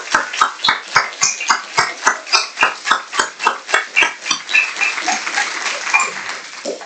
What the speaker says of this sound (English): Should we just give Annelies a round of applause once more?